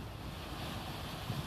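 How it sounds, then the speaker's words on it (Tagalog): Strengthening ocean waves at high tide in bad weather rush and churn in a continuous roar, with wind buffeting the microphone throughout. "Yan, lumalakas na ang alon."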